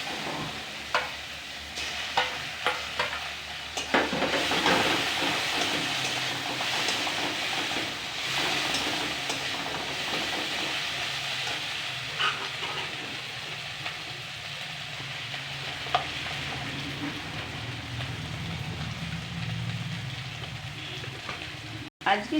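Onions sizzle and frying in a pan while being stirred, a steady crackling hiss with scraping stir strokes that stays close and even throughout.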